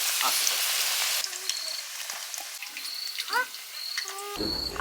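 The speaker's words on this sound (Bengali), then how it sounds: "আলু কচু ভাজা হয়ে গেছে তেলটা বেশি হয়েছে" Potato and taro pieces fry in hot oil, giving a light crackling sizzle with scattered pops and a few utensil clinks, fairly close and moderately quiet.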